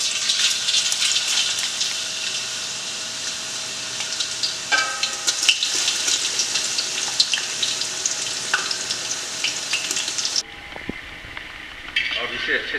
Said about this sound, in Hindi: अब मैं गैस को फिर से चालू करूँगा और 1 मिनट इसको हम गर्म करेंगे फिर से। और ये हमारे जो प्याज हैं इसमें डाल देंगे आहिस्ता से।